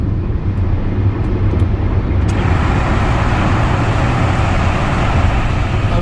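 Car driving through a road tunnel, a steady loud engine and road roar with a dense enclosed rumble that swells slightly as the car enters, continuous with no talk.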